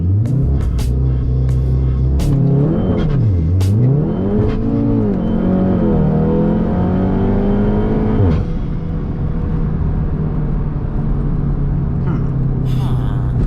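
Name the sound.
VW MK7 Golf R accelerating hard from launch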